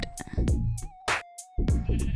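Sheep in the game Minecraft bleat several times in short, wavering calls, close and fairly loud, with brief quiet gaps between them and no talking.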